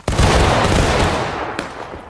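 Musket volley fired by a line of soldiers in the Civil War game War of Rights, a loud, close, sustained crackling roar of overlapping shots that slowly fades, with one more sharp report near the end.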